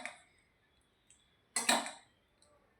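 Metal spoon clinking against a pot while serving dal into a dish, a few faint light taps followed by one louder scraping clatter, close and quiet with no talk.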